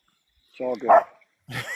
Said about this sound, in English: you may hear my dog in the background